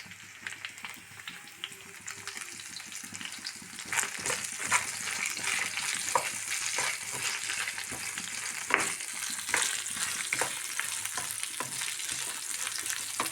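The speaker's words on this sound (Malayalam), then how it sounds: "നമ്മൾ വഴുതനങ്ങ വെച്ചത് നേരിയതായിട്ട് ഫ്രൈ ആയിട്ടുണ്ട്." Slices of eggplant frying lightly in a little oil, giving a steady soft sizzle with scattered crackles and pops that grow a bit busier partway through, close and alone without voices.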